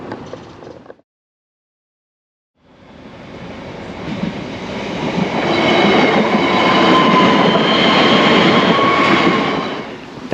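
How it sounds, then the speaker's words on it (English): After a short silence, a train rumbles in and passes close by a level crossing in Dublin, its heavy wheel noise swelling louder and holding steady. "That level crossing barrier was down for a full 2 minutes before the train arrived."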